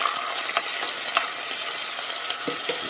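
Garlic sizzling and frying in a hot pan while cooking tilapia and rice, a steady close hiss with occasional stirring scrapes, no talk.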